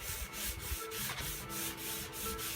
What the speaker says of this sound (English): we're going to go ahead and block it with 320 on with a little block